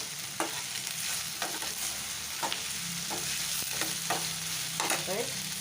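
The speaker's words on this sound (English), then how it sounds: "High the flame a little bit, just a little bit, so that the oil and the onions just get nicely stirred" Chopped onions fry in hot oil in a pan while being stirred for a Mangalorean tenli and black chana stir fry, giving a steady close sizzle broken by repeated scraping stirs.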